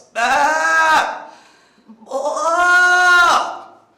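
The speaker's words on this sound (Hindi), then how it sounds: "घर में बकरों की आवाजें आनी चाहिए" Goats bleating at home, two long, loud, close bleats separated by a short pause.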